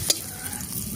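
Peeled boiled potatoes go into a hot spice tempering and are stirred, giving a brief close clatter followed by a steady oily sizzle for about a second.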